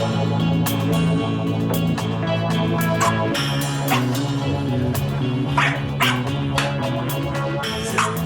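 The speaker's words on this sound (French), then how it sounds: "un chien qui est dans une chambre d'hôtel" A dog barks and yips inside a hotel room, short repeated barks and a whimper heard against steady background music or broadcast sound, fairly loud and persistent throughout.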